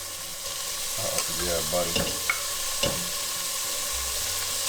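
Onions and wild pork sizzle and fry in a pan for steamed pork buns, a steady close hiss with a few stirring scrapes, while someone briefly speaks over it.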